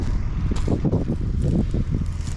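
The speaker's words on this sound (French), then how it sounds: "Alors il y a peut-être un petit peu de vent," Wind gusting across an open field after rapeseed stubble cultivation, battering the microphone with dense low rumbling buffets that rise and fall continuously, loud and close, with no voices.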